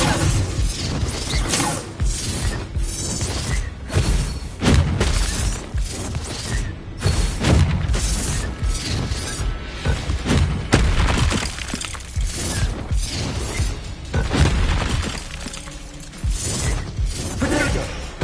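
Harry Potter spells firing and exploding in a video game, a long, loud, dense barrage of crashing, shattering blasts and mechanical clatter packed tightly together without pause.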